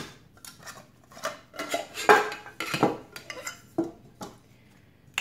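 Lightweight outdoor camping cookware pieces, frying pans and cook pots, are handled and set down, giving a string of close metallic clanks and clinks at an irregular pace, heard alone.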